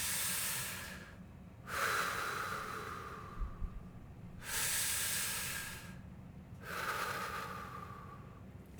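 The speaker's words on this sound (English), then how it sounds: "Taking some slow, deep breaths." Slow, deep breaths are taken in three long cycles, each a soft, airy inhale or exhale lasting a couple of seconds with quiet pauses between, close and unhurried.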